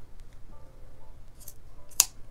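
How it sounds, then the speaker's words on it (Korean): Scissors cut through pajama fabric in a quiet room, with a few soft snips and then one sharp, crisp closing snip near the end. "파이핑 있는 끝까지 이렇게 대가지고 여기까지 잘라주세요."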